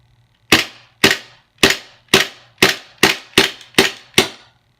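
Gas airsoft pistol running on duster gas firing nine sharp, loud, snappy shots in a steady rhythm about half a second apart, each crack decaying quickly, close to the microphone with no talk.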